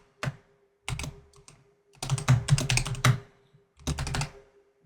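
Close, crisp typing on a computer keyboard as a root password is entered on a Proxmox host, in short bursts of rapid clicks separated by brief silent pauses, with no voices.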